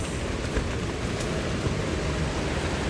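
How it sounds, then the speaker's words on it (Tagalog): Strong wind blows hard outside a tent on a mountain, a constant heavy rushing hiss with no letup, loud and close, with no voices. "Grabe, lakas ng hangin sa labas."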